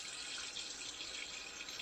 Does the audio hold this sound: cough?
no